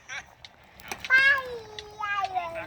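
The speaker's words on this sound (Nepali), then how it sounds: "ऊ याउँ गरेर अरे ऊ बिरालोलाई लखेट्दै ऊ जङ्गलतिर जाँदैछ" A cat being chased at night gives one long drawn-out meow, then a second shorter meow, clear and fairly close, after a few faint soft sounds.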